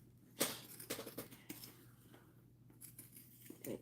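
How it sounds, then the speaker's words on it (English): Scissors trimming curves in fabric while sewing, with several close, crisp snips and small rustles spaced irregularly over a faint background hum. "I'm just going to cut my curves. It's like trimming here."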